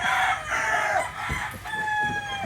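A rooster crows loudly among clucking hens on a farm in Lipa, Batangas, the long crow nearby, with shorter calls and farmyard noise around it.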